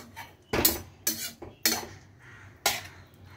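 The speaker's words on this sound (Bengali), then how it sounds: "এটাকে এবার আমি ঢাকা দিয়ে দিলে রান্নাটা হতে থাকুক।" A metal lid is set onto a cooking pot of okra curry, giving four distinct clanks and rattles, each ringing briefly before fading, close and loud against a quiet background.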